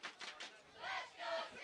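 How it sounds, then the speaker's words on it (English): A crowd at UNCW Soccer Stadium during an NCAA men's tournament soccer match cheers and shouts in short rising swells, heard somewhat distant. "Good crowd here tonight."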